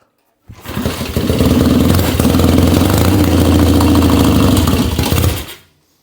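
Triumph chopper motorcycle engine kicking into life on its last attempt and running loud and rough, the throttle surging unevenly for about five seconds before cutting out.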